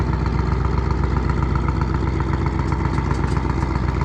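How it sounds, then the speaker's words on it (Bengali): Diesel engines of sand-hauling trawler boats on the Buriganga river drone in a loud, steady, low chugging rumble with continuous clattering throughout. "নদী দিয়ে যেগুলা টলার চলতেছে এগুলা বালু টানার কাজে"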